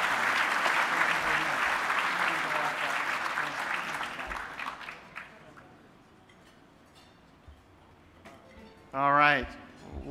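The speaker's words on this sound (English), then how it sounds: "let's give a big round of applause for these future" An award dinner audience gives a warm round of applause that gradually thins and fades over several seconds, followed by a brief pause and a short spoken voice close to the microphone.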